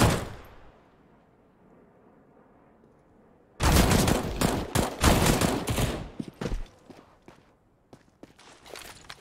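Rapid bursts of gunfire in a Counter-Strike match on the dust2 map, loud, dense shots for about three seconds after a quiet stretch, then a few scattered trailing shots and footsteps.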